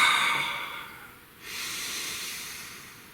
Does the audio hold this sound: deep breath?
yes